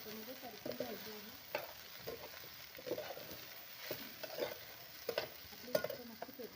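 Okra being stir-fried in a pan over a wood-fired chulha: a spatula scrapes and stirs in irregular strokes over a soft, steady sizzle, fairly faint and close.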